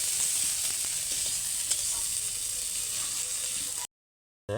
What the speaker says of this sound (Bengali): পেঁয়াজটা ভাজা লাইছি